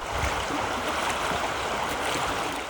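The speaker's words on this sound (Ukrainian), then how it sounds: "На пошуки староста з човнярем сплавляють цей дерев'яний баркас" A wooden barge drifts on the flooded Desna river, and a loud, steady rush of moving water and wind fills the whole stretch without a break.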